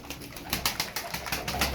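Ankara Kırı pigeons, a male chasing a female, coo close by in a rapid series of throaty pulses, with rustling in the background and no speech.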